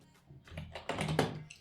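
A short run of quick keystrokes on a computer keyboard, close and clear, clustered in a burst over about a second.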